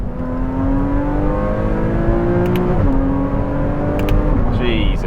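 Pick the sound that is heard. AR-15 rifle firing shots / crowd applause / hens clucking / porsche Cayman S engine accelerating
porsche Cayman S engine accelerating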